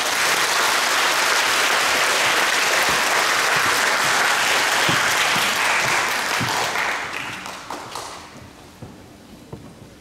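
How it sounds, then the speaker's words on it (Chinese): An audience at a joint school concert applauds a student with loud, sustained clapping that slowly fades into a few scattered claps and light taps. "让我们用掌声欢迎建国国中蔡颖炫同学。"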